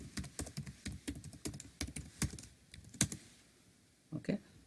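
Fast typing on a computer keyboard while writing a Selenium test, a dense run of close key clacks with louder strokes mixed in, easing into a brief pause before a final short burst.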